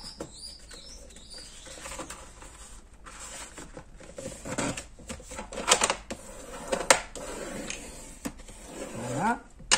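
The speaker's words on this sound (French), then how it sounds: "je marque tous les plis et dans l'autre sens" Scrapbooking paper is creased into accordion folds, giving crisp crackles, papery scrapes and sharp taps in an irregular rhythm close by, with a voice talking at times.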